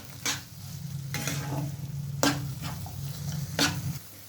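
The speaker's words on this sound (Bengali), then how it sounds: "আবার একটু ভালোভাবে নাড়াচাড়া করে নিতে হবে যাতে লেগে না যায় তলায়।" Masala for restaurant-style matar paneer frying in oil in a pan as it is stirred, with four distinct scraping strokes of a spatula over a continuous low sizzle, close and alone.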